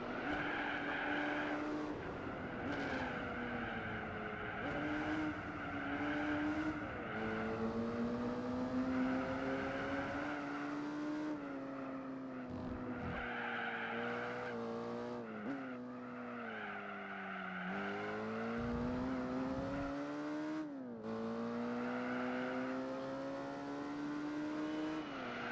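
A race car in Gran Turismo 4 on sport tyres, its engine droning steadily and rising and falling through gear changes, with tyres squealing and skidding through corners, continuous and close.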